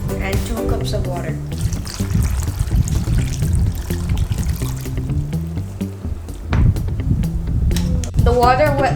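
Two cups of water pouring steadily into a pot of kappa (yucca) for beef curry, a continuous splashing trickle under kitchen background noise and clatter.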